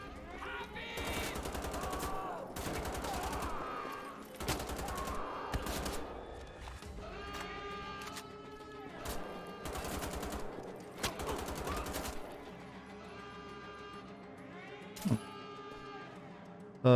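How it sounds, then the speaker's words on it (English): A grenade pistol fires in the video game Wolfenstein: The Old Blood, launching booming shots that punch out in repeated loud blasts and rapid clusters over a steady musical drone, with a sharp lone crack near the end. "Is that a grenade pistol?"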